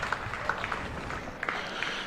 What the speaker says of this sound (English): the crowd really getting behind their team now